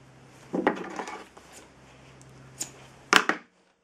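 A blade cuts off the lashing cord on a dogsled: a few close, quiet clicks and scrapes, with a sharper snap near the end.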